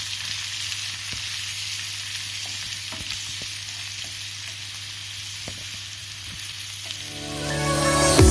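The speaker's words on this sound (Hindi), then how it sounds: "प्याज को अब सुनहरा होने तक भूनें।" Chopped onions frying in a pan for dal tadka, a steady close hiss of sizzling oil with faint occasional ticks and pops, swelling louder and brighter near the end as the food is stirred.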